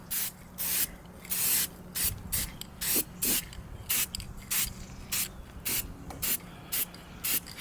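Lacquer being sprayed onto a clock case being refurbished: a series of short, fairly close hissing bursts, about a dozen, each lasting around half a second with brief pauses between, and no talking.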